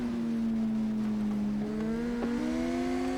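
A Kawasaki ZX-10R racing motorcycle at full throttle on the Isle of Man TT course, its engine a loud, sustained on-board drone that holds its pitch and then climbs through a gear change.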